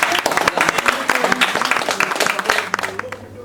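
Crowd applause at a small brand-launch event on La Réunion, a dense, steady burst of clapping lasting a few seconds, with voices mixed in underneath.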